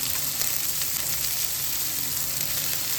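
Chopped onion, carrot and capsicum fry in a hot pan for Indian-style vegetable hakka noodles, giving a steady, dense, loud sizzle that carries on without a break and has no talking over it.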